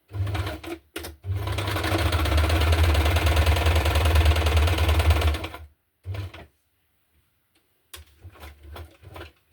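A sewing machine stitches through fabric and paper in one long steady whirring run of about four seconds, with short bursts of stitching before and after it.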